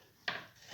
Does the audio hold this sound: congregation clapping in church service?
no